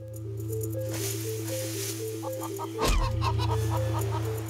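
Cartoonish chicken clucks from the video game BigChick, a repeating rhythmic pattern of short clucks over a steady low game tone, with a brief squishy impact thud partway through, fairly loud and close with no talk.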